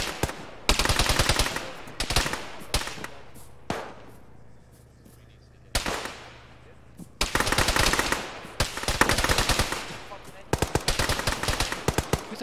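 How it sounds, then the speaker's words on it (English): Gunfire in the video game ArmA during a ShackTac squad mission, with long loud bursts of automatic fire broken by short pauses and occasional single shots, close and harsh, and voices talking among the shots. "Who the fuck is shooting us over there?"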